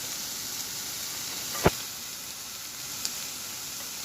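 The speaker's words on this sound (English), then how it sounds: "So now I'm gonna roast them on a medium flame." Diced tomatoes, chopped garlic, green chilies and onion roast in a pan over a medium flame for homemade tomato salsa, giving off a steady close sizzle with one brief clatter midway.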